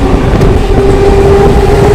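A train rumbles loudly and steadily nearby at Barrackpore station, West Bengal, with a constant low roar and a sustained tonal whine, and no voices.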